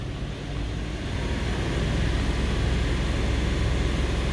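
A 2002 Toyota Sequoia engine idling with misfires, a steady low rumble heard close up and alone, with the loudness holding nearly level throughout.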